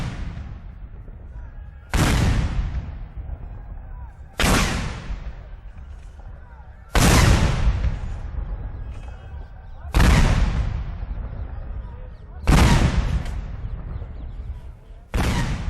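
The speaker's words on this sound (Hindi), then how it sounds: "एक 105 mm की फील्ड गन से 21 तोपों की सलामी दी गई" A 105 mm field gun fires a 21-gun salute at a Republic Day parade on Kartavya Path. Six heavy booms come at regular intervals of roughly two and a half seconds, each followed by a long rolling decay.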